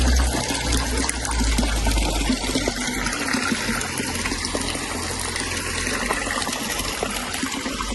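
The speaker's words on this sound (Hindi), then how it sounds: "अंकल बोट में से पानी निकाल रहे हैं" Water is bailed out of a boat at a cave by the river, a steady gushing, splashing wash that runs on loudly and without pause.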